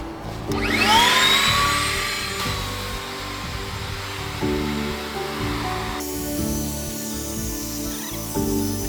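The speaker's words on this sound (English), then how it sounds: "high-speed pump, and we're gonna actually inflate this a little bit" High-speed electric pump inflating AirSkirts, a loud whining whir that starts abruptly and holds steady, with pitch shifts partway through and muffled thumps underneath.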